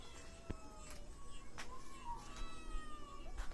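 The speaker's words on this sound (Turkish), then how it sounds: "kedi çatıya çıkmış ya" A cat on a roof meows several times, faint and somewhat distant, over a quiet background hiss.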